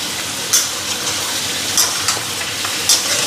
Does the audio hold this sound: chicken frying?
yes